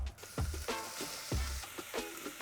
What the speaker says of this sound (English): And now we're gonna add our onions to the pot.